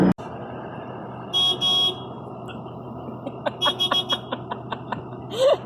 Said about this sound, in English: A little wimpy horn on that huge honking truck